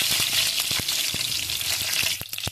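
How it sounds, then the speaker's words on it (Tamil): Mustard seeds and curry leaves frying in hot oil for a tuna puttu dish, a loud continuous close sizzle dotted with sharp crackling pops as the seeds burst, with no talking. "ஆயில் சூடாகட்டும், கடுகு போட்டுக்கலாம். கடுகு உடையட்டும்."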